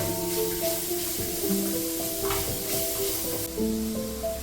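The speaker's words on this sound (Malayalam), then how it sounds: "ഒരു 3 മിനിറ്റ് ഫുൾ ഫ്ലെയിമിൽ നമുക്കൊന്ന് സോട്ട് ചെയ്ത് കൊടുക്കാം" Mixed vegetables sautéing on full flame in a tawa for veg pulao, a continuous close sizzle and hiss with occasional stirring scrapes, no talk.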